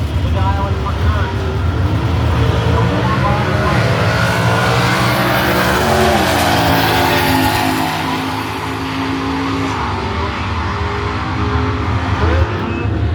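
Drag racing cars at the Brainerd drag races in Brainerd, Minnesota, roar loudly and continuously, with engine revving and shifting pitch, while voices murmur faintly underneath.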